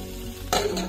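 A lid is set down over a frying pan of egg, giving a single quick metallic clank after a soft background hiss, close and fairly quiet.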